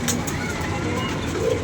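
A pigeon coos softly in a short, low, throaty burble, with background noise and a voice underneath.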